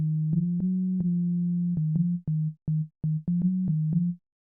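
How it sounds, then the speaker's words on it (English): A buzzy, distorted sine wave synth tone in Ableton Live holds a low note, then breaks into short choppy bursts with clicks at each onset. "Let's try it with the sine wave real quick."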